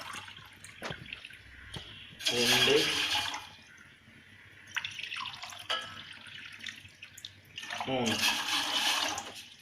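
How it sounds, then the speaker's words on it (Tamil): Tumblers of water are poured into a cooking pot in a home kitchen, two distinct splashing pours with dripping between them, close and fairly loud, while someone talks quietly in Tamil. "ஒரு 3 டம்ளர் தண்ணி ஃபஸ்ட்டு ஆட் பண்ணி கொதிக்க விடணும்."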